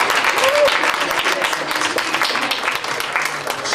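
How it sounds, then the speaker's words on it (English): Town hall audience at a college applauding an Assembly candidate, loud dense clapping sustained throughout, with a brief voice or cheer early on. "Give a round of applause for Susan Shelley."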